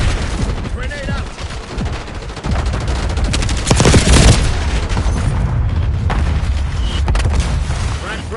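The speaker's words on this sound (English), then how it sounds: "Grenade out." A Call of Duty Black Ops match, with a grenade blast booming loudly amid continuous rapid gunfire and heavy explosions, and game voices mixed into the dense battle noise.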